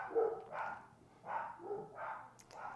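Dogs barking indoors during a solo board game session, several repeated barks in a quick irregular series at moderate level, close by in the room.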